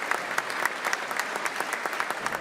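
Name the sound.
thunderous applause for Governor Tim Walz in House chambers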